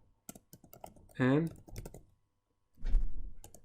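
Computer keyboard typing, scattered clicky keystrokes heard faintly during a coding session, broken up by a man's speech that sits over the taps.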